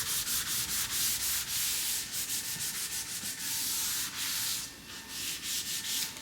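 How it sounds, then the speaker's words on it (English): A primed cabinet is sanded by hand in preparation for paint, with rhythmic back-and-forth rubbing strokes that are loud and close, continuing steadily with brief pauses and no talk. "I'm going to go ahead and finish sanding this and get it ready for paint."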